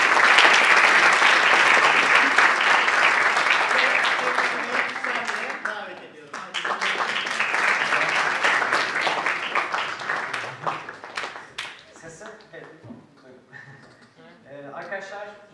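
An audience at a TinkTalks talk event gives loud, dense applause for about six seconds, then keeps clapping more thinly while voices talk over it, until the clapping trails away.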